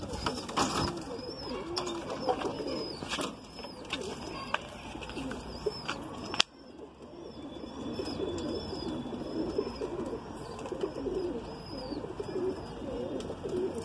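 Several Madrasi pigeons coo continuously nearby, low throaty calls layered over one another, with a brief sharp knock partway through and faint bird chirps behind.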